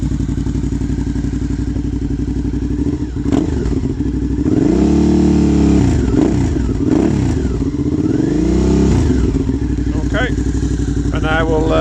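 Suzuki V-Strom 650 with a Black Widow exhaust and its baffle removed, idling loud and close before being blipped through several deep, rising revs that fall back to a throbbing idle.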